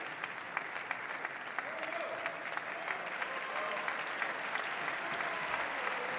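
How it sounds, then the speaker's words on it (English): A knowledgeable crowd at the Paris Squash 2024 tournament applauds player Gawad, a sustained, fairly distant ripple of clapping with scattered sharper claps and a few faint voices. "For Gawad getting the round of applause"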